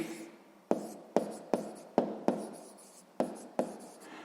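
Pen strokes on paper during a sixth-grade maths exercise, heard as about eight short, sharp scratching taps in an uneven rhythm, close and fairly quiet, with no talking.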